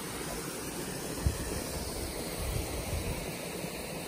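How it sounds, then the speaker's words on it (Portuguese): A mountain stream in Japan rushes steadily with a constant, even hiss nearby, with no voices. "Gostoso o barulho d'água."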